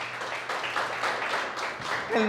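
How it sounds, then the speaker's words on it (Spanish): Church congregation applauding during a Spanish-language sermon, a short, moderately quiet burst of crowd clapping with voices mixed in. "Dale un aplauso a Dios fuerte si es que estás creyendo esto."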